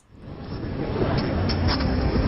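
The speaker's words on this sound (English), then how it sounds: "You get a lot of chatter from KSTP on the upper sideband." Shortwave radio noise received in upper sideband near the 1490 AM signal, with adjacent-channel splatter from KSTP: a dense, steady hiss and rumble rising from silence and holding loud to the end, with faint tonal flickers.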